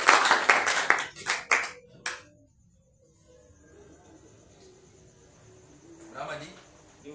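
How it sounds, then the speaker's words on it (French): A church congregation at a youth meeting claps in acclamation for the Lord, with several loud bursts of clapping in the first two seconds. After that comes near silence, then a brief faint burst of clapping or noise near the end. "Acclamons pour le Seigneur."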